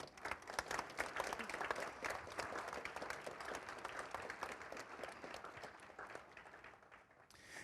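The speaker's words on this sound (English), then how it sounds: "I'd say this is a nice moment maybe for a little bit of applause" Wedding guests break into steady, fairly distant applause during the ceremony, a dense patter of many hands that holds for several seconds before tapering off near the end.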